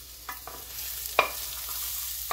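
Chopped hearts sauté in a pan with a steady soft sizzle, while a few light scrapes and taps of stirring break through. Heard close with no talk.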